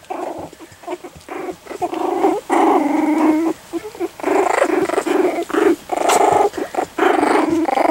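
Several three-week-old puppies growling and snarling in overlapping bursts, close and fairly loud, with brief gaps between the rumbling growls.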